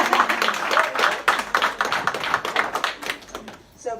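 Scattered clapping from a small audience, a burst of close, uneven hand claps fading out after a few seconds.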